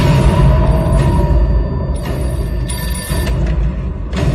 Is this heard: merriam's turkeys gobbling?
no